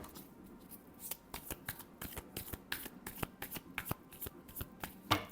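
Tarot cards being shuffled by hand, a rapid run of sharp riffling snaps and flicks in an irregular rhythm, close and fairly quiet.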